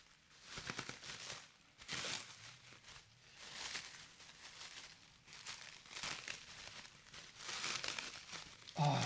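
Plastic wrap being crinkled and pulled apart while unpacking a LEGO set, close and noisy in repeated rustling bursts of a second or two, with brief quiet gaps between handfuls.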